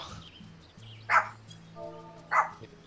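A dog gives two separate barks about a second apart, moderately loud over a faint low hum and quiet background tones.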